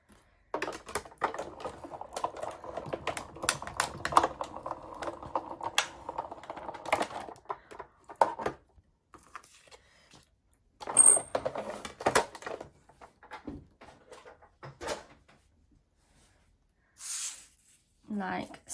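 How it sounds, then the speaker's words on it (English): A Sizzix fold-away die cutting machine is run through by hand, making a dense stretch of rapid clicking and ratcheting, followed by sparse handling taps and small plastic knocks in a quiet room. "Got my fold away machine, and I'm literally just going to pop that through"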